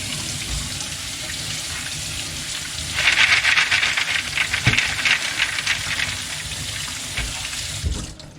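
Running water rinses the tray of a Fluval FX6 canister filter, a steady tap-like splash swelling louder midway as the flow hits the tray, close up with no talk.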